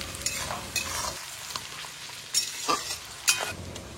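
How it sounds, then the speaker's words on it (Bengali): Onions frying with a little salt in a pan, a steady soft sizzle under repeated bursts of stirring and scraping, close by with no voices. "পেঁয়াজ ভাজার সময় দিয়ে দিলাম অল্প নুন, দিয়ে আমি পেঁয়াজগুলোকে লাল লাল করে ভেজে নিচ্ছি"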